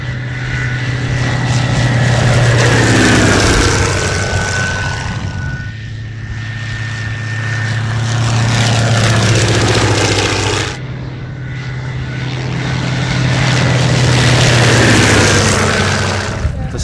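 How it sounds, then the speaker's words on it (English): Sopwith Camel biplane flying past over an airfield, its propeller engine drone swelling loud as it nears and fading as it passes, then rising again on a second pass, with no talk. "Sopwith Camel did a few laps of the airfield here, effectively a fly past"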